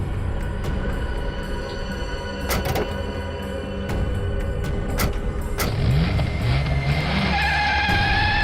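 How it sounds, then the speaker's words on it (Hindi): A car engine revs and pulls away fast, with bursts of clatter and a rising whine toward the end, over steady background noise. "अबे गाड़ी भगा, तेज चला।"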